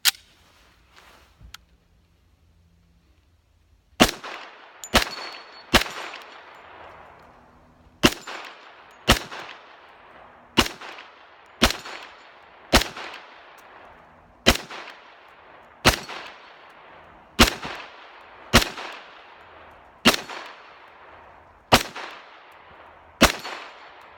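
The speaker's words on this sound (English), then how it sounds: "It's definitely different, at least for me in shooting 45. This gun handles the recoil really well." FNX 45 Tactical .45 pistol firing a long series of about fifteen sharp, loud shots at an uneven pace, each crack followed by a decaying echo, after a few quiet seconds; no talking.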